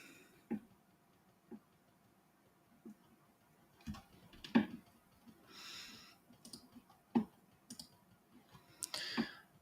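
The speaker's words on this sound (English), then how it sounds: "I'm just kind of clicking on guys that I feel like are good values where they go." Scattered single mouse clicks during an online fantasy football draft, close and soft, spaced irregularly over quiet background with faint rustling and breathing.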